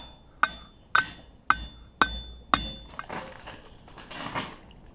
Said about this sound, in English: just start tapping it down over the side of the anvil